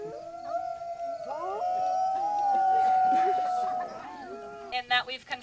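Wolves at Wolf Park howl in a chorus of several overlapping, long, wavering tones that hold for about four seconds, then trail into a few brief yips and calls.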